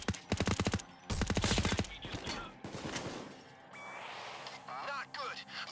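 Sniper gunfire in Payday 2 during a bank heist, loud rapid bursts of shots crackling close by, followed by mechanical clanks and chirping effects, with game noise throughout.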